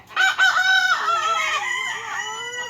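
A chicken calls loudly nearby in a small home garden with a drawn-out, crowing cluck that rises and falls, nothing else around it.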